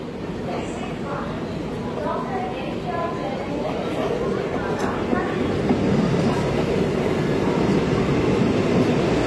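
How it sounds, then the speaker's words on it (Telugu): The Tirupati–Secunderabad Vande Bharat train rolls into Nellore station with a steady, building rumble and rush beneath station chatter and nearby voices. "అదిగోండి తిరుపతి సికింద్రాబాద్ వందే భారత్ అయితే వచ్చింది."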